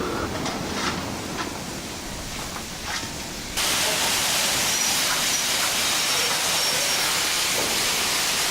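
A Class 101 diesel multiple unit running in a train simulator game, a steady broad rumbling roar with hiss that jumps louder partway through and holds, no voices.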